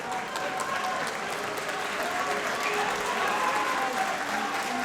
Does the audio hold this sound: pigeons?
no